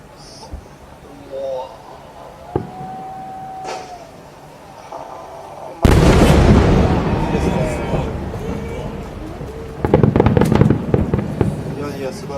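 Fireworks display with large shells bursting over a Niagara-style cascading firework: scattered pops and crackles at first, then a heavy boom around the middle followed by sustained loud crackling and dense volleys of bursts toward the end, with faint crowd noise.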